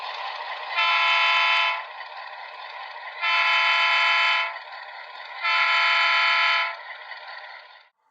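A model train locomotive crawls slowly toward a crossing on a layout, sounding three long horn blasts over a steady running hum, each blast about a second long.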